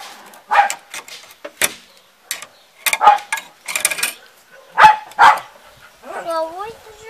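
A dog barks several times in short bursts during the unpacking of a Motor Sich KF-1S rotary cultivator, the barks mixed with people talking nearby, followed by a brief whine near the end.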